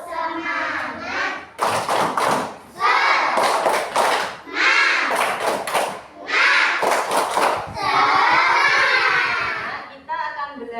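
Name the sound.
children clapping a rhythmic chant together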